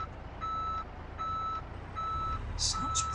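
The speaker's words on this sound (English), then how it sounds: "That reversing buzzer sounds pretty good, actually. I like the clicking in between it." A Peterbilt 389 heavy-haulage truck in Euro Truck Simulator 2 sounds its reversing buzzer: four steady, evenly spaced beeps with short clicking gaps between them, over a low engine idle, with a faint high chirp near the end.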